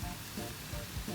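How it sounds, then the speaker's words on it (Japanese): Meat searing in a pan at a riverside campsite, a steady close sizzle with crackling pops that swells and eases in a gentle rhythm, with no voices over it. "これで全面に焼き色をつけるだけつけたいと思います。"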